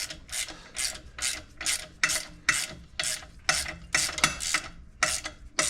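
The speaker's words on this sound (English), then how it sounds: "Get in there, ratchet." Ratchet wrench clicking in steady repeated bursts, close and fairly loud, while working on an 1986 Z car's suspension and pulley assembly; no talking.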